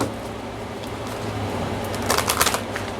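Tarot cards riffle and shuffle in a quick burst near the end, crisp papery flutters over a quiet room hum.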